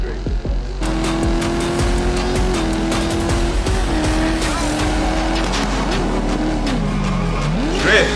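A race car in the Test Drive Unlimited Solar Crown video game drifts with loud, sustained tire squeal over a steady engine drone, the pitch wavering as it slides through the turn.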